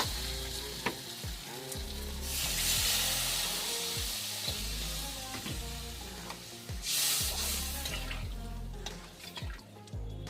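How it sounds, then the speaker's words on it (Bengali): Water goes into a hot pan of mustard prawn masala, raising two bursts of hissing steam over a bubbling sizzle, with regular spatula stirring knocks throughout and no talking. "দাও জল দিয়ে দাও"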